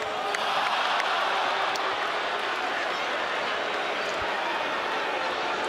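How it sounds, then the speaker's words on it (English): A basketball crowd in the Garden applauding the player Booker during a Celtics versus Suns game: a dense, steady roar of clapping and cheering that fills the arena without pause. "And the Garden faithful are applauding Booker."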